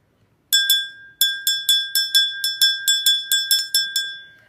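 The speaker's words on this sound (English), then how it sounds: "let's ring this bell so we can begin" A small handbell is rung in a quick, steady run of about fourteen bright, clear strikes. It sounds close and loud, with each ring fading briefly before the next.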